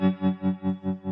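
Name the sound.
Stone Deaf FX Tremotron tremolo pedal on a sine wave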